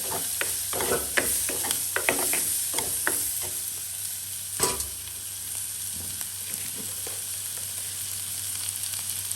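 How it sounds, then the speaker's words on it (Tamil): Garlic and other ingredients are sautéed in a pan, heard as a steady close sizzle with a burst of spoon-stirring scrapes early on, then a quieter continuous frying hiss. "எல்லாத்தையும் போட்டு மெல்லிசா மெல்லிசா வாட்டி போட்டு வதக்கி போட்டு"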